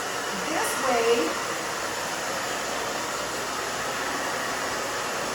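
A hair dryer blows steadily on curly hair, a constant broadband rush of air that holds an even level throughout, with a faint bump of voices early on.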